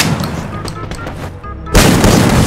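Gunfire in the mobile battle royale game Free Fire MAX, a run of sharp in-game shots followed by a louder, denser burst of firing near the end.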